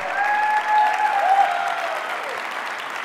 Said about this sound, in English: Kevin Lanke, let's give a round of applause